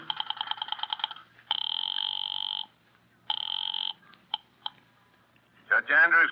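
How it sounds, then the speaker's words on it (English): Old switchboard telephone effect from a radio courtroom drama: a rapid burst of dial clicks, then two long electronic ring tones with a gap, a few faint clicks, and a voice answering at the end. "I went out to the switchboard and dialed the courthouse number."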